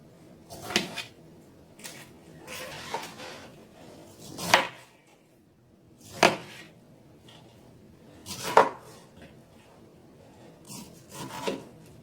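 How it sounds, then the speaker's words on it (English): A knife cuts through pineapple on a wooden board in about six separate rasping strokes spaced a second or two apart, with faint quiet between them. "We're going to move into cutting our pineapple so we can start grilling our pineapples for our tacos."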